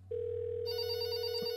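Telephone ringing in a video game, a steady electronic tone that starts abruptly and holds for over a second, joined by a brighter ringing layer partway through, clear and alone.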